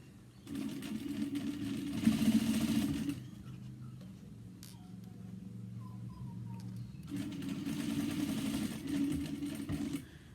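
A sewing machine stitches a handbag in two steady runs of fast, even whirring and clatter, a quiet pause between them, close and moderately loud with no talking.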